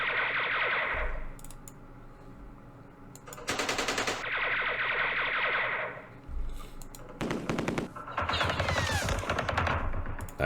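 Bursts of gunfire in Campaign Series Vietnam at the Battle of Hue, several loud rattling volleys with echoing tails separated by short pauses, played alone without talk.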